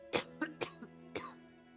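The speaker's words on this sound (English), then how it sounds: "Pardon me, pardon that cough." A few rough cough bursts, about four or five in quick succession then one more after a pause, close and moderately loud with faint voice-like tone under them.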